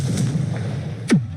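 Confringo blasting spell in Hogwarts Legacy going off as a single sharp, punchy explosion with a quick falling boom, over a low rumbling game background.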